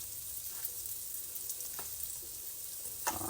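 Donut holes fry in hot oil with a constant bright, hissing sizzle, punctuated by a few faint taps and crackles, close and fairly quiet, no talking.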